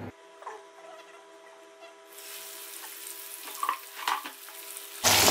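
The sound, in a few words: whole chicken chargha frying in hot oil in a kadai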